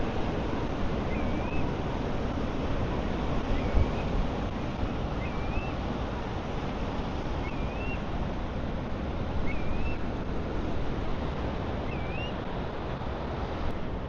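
Ocean waves washing in and out at tide pools on a winter beach near Newport Beach, a steady broad rushing wash mixed with wind noise, with faint repeated bird chirps above it.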